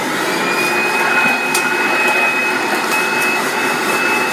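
A vacuum cleaner runs loud and steady with a constant whine and airy roar while it tries to pick up hair from the floor.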